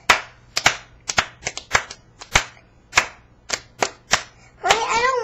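Hands clap in sharp, irregular bursts to the Bingo song, loud and close with uneven gaps between claps, then a voice rises near the end.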